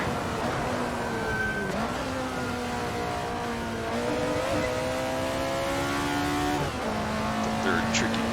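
An Alfa Romeo 33 Stradale races in Assetto Corsa through the Parabolica, its engine droning loud and steady as revs climb, with sharp downshift blips breaking the pitch twice.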